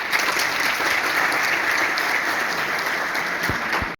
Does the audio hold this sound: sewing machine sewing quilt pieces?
no